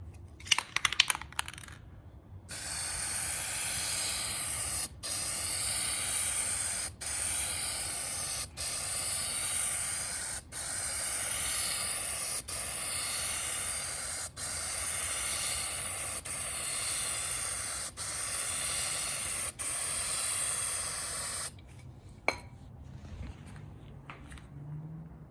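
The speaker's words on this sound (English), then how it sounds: "I'll go ahead and get started spraying this." Spray gun applying paint to car parts for a V12-swapped Datsun 260Z, a steady hissing spray in repeated bursts of about two seconds each, with short pauses between, close and fairly loud, no talking.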